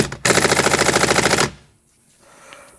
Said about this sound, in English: All right, we've got our impact gun on low here.